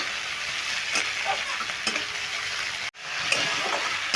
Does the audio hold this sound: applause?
no